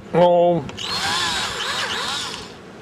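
A short voiced sound is followed by a power drill whirring into wood for about two seconds, close and moderately loud.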